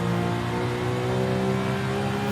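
A Gunther Werks GW 911 Carrera C2 400R engine pulls steadily under acceleration from inside the cabin, a smooth continuous droning hum with no talk.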